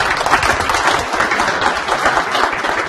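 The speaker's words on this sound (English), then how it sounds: "give him a nice round of applause." Dense clapping from an audience fills the whole stretch, a continuous even wash of applause with no voices standing out.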